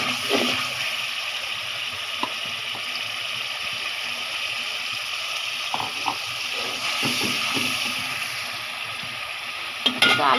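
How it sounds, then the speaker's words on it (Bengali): A spice mixture for egg curry, with salt added, sautés in a pan, giving a soft, continuous sizzle broken by occasional clicks and scrapes of stirring. "এটাকে কষাবো এখন। এতো মশলাটা একটু কষাবো আমি।"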